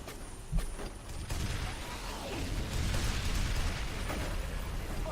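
Gunfire from the video game F.E.A.R. Perseus Mandate: a loud, dense, continuous barrage of bursts and blasts that keeps up throughout, with no clear gaps and no talking.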